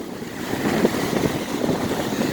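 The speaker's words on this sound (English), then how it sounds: "this ocean is rough today." Rough ocean surf with strong wind at an inlet beach in Florida during dangerous conditions, a steady broadband roar of crashing waves and gusty wind buffeting the microphone with no talking.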